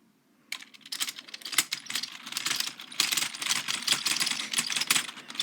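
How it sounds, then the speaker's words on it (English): The spacebar on a gaming keyboard gets hammered rapidly at close range, giving a dense, uneven stream of sharp clicky taps that starts after half a second and continues without pause. "Now if we want to do spacebar clicker, here we go to that."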